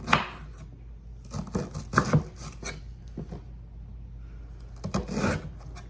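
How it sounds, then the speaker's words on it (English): A knife slices cabbage thinly on a cutting board, giving a run of soft, quick chopping strokes in a cluster, a pause, then a few more cuts near the end. No one speaks. "Cabbage is easy peasy, so I'm just gonna slice it really thin."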